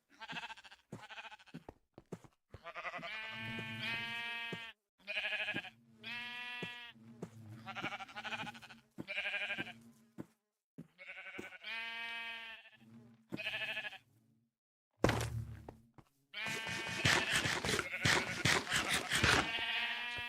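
Repeated sheep bleats in the video game RealmForge, in quick succession with short pauses, then a louder, busier burst of bleating near the end.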